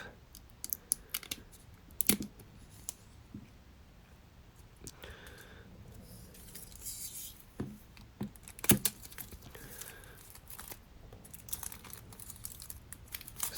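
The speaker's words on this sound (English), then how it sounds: "So taking off the plastic shrink wrap." Plastic shrink wrap is peeled and crinkled off an Apple Pencil box, giving close, uneven crackles and rustles with a few sharper snaps, and no talking.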